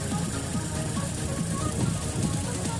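A VAZ 1118 with a 1.6 engine idles smoothly after a full cylinder head rebuild, giving a steady, close, even low rumble with no pauses.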